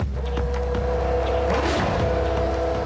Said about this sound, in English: Oh, the sound of that V10.